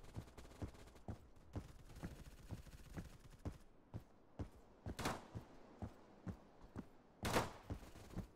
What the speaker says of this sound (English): Where's gunfire coming from?